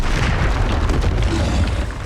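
Spell blasts in the Hogwarts Legacy video game, a dense continuous rumble of booming explosive bursts with a heavy low end, loud and close throughout without pause.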